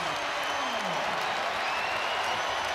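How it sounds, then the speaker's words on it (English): Fans at a Providence versus UConn basketball game in Gamble arena cheer and applaud in a steady, loud wash of noise while a commentator speaks over it. "Crowd on its feet at Gamble."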